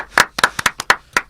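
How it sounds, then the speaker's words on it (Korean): A few people clapping on a talk show, about seven sharp, close claps in a loose, uneven rhythm over a little more than a second. "이것도 진짜 박수"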